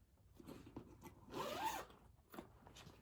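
A zipper on a large nylon tote bag is pulled along its track, a close rasping run that swells in the middle and tapers off, quiet and alone with no talk.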